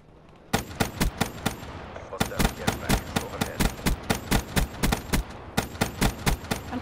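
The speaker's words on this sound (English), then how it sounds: "I'm shooting somebody's UAV." Rapid bursts of video game gunfire aimed at an enemy UAV in a first-person shooter, dozens of sharp, loud shots in quick irregular volleys, close and dominant with no talking over them.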